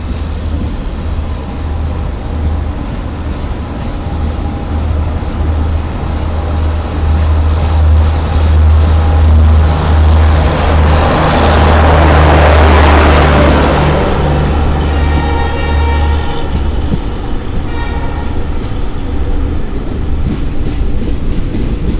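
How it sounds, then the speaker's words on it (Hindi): Bikaner Intercity Express departing while another train passes alongside, with a loud steady low rumble and clattering wheels, and a whooshing swell of noise as the other train crosses close by midway. "तो दोनों ट्रेनों को डिपार्चर देखिए और क्रॉसिंग देखिए"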